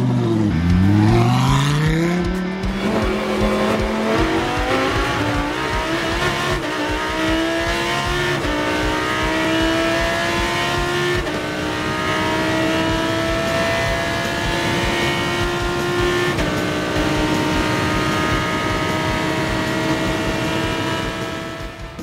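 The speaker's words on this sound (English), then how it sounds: "we're gonna go do some rental car laps" A rental car lapping the VIR road course, its engine loud and close throughout, revving up steeply through the gears with repeated upshifts and sustained high-rpm pulls, with faint tire noise underneath.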